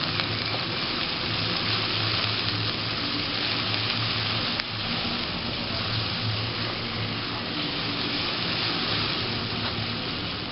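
Garlic-heavy ginger paste fries in a pan with loud, constant hissing sizzle, dense and unbroken for the whole stretch, with a single faint clink partway through and no talking.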